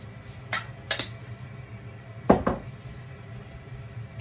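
A metal lid is set onto a pot of chicken stir-fried with ginger, giving a couple of light clinks followed by a sharper double clank, close by and quiet between the hits.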